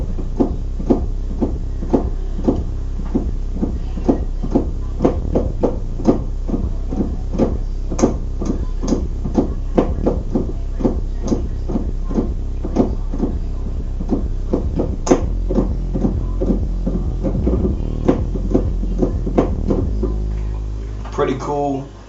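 Maschine Monarch "big ball" bass synth preset playing a steady pulsing pattern for about twenty seconds, rhythmic punchy low notes with sharp clicky attacks repeating evenly, loud and close, ending with a brief held tone.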